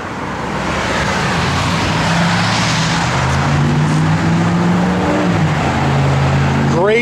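A 1982 Chevrolet K10 short-wheelbase 4x4 with a stroker engine and Flowmaster 2.5-inch dual exhaust runs loud and close, a steady throaty rumble with pitch swells as the revs climb and ease.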